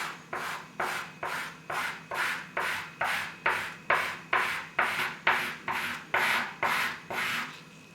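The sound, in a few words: sanding a hinge with 400 grit sandpaper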